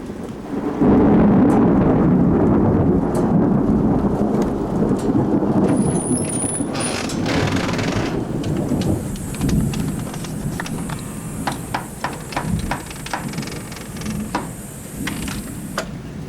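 Thunderstorm with lightning striking a transformer: a loud low rumble and crackle of thunder swells at the start, followed by steady rain hiss and a sharp electrical buzzing band with scattered pops and clicks.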